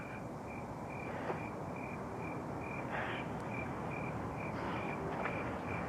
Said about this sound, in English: I hear crickets singing